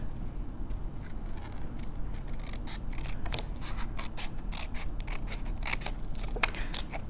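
Scissors trimming a small notch in patterned paper for a handmade mini album, a close, continuous run of crisp scratchy snips and paper rasps at an even pace.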